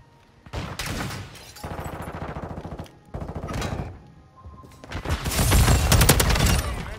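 SCAR rifle fire in Modern Warfare 2 Search and Destroy comes as bursts of rapid automatic shots, loud and close, separated by brief pauses and ending in a longer, denser volley, with no voices over it.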